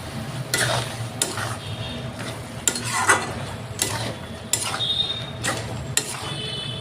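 Chopped tomatoes fry in a pan for a Bengali fish-head and eggplant dish, a steady close sizzle broken by regular scraping stirs of a spatula against the pan.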